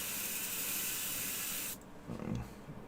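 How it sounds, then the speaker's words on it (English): An airbrush sprays thinners onto a sheet of paper in a steady, loud hiss that stops abruptly, followed by faint handling noises. "just take a piece of paper and spray it till you're getting a nice even"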